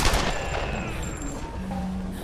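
Gunfire in the Tomb Raider reboot, a burst of rapid close shots at the start trailing into an echoing, rumbling tail, loud and with no talk.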